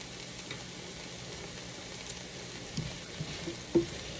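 Peppers and onions sizzle steadily in a pan, a constant frying hiss with soft scrapes and taps of stirring near the end, no voices.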